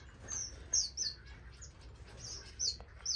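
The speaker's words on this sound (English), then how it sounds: "The tricolor munias, these birds are something else." Tricolored munia finches in an indoor bird room give short, high chirps in scattered bursts, fairly faint against a quiet room hum, with no talking.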